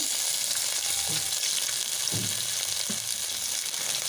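Green chillies, dried red chillies and grated ginger fry in hot oil with a steady, close sizzle, broken by a few soft stirring scrapes; no voices.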